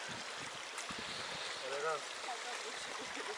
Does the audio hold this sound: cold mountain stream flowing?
yes